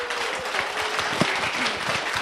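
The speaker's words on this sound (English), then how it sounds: "I'd like to give Michelle Bustamante another great big round of applause" A live audience at a .NET Rocks! tech show recording in Toronto applauds a guest with dense, sustained clapping that sounds close and full for the whole stretch, with no talking.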